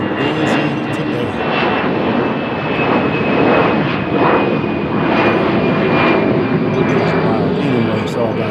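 A fixed-wing airplane from a nearby airport passes overhead with a loud, sustained engine drone that swells and holds, heard at a backyard barbecue while someone talks over it.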